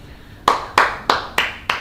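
Five sharp hand claps in a steady, slightly quickening rhythm, close and loud with quiet between them.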